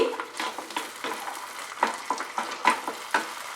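Egg manchurian with ketchup is stirred in a pan over high flame. A steady sizzle runs beneath repeated scraping and clinking strokes of a spoon against the pan.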